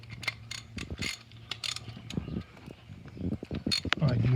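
Hand tightening of a part on a Honda CR-V during clutch pressure switch work: a close series of ratcheting clicks and metallic mechanical ticks in irregular bursts, with a low hum underneath and some speech.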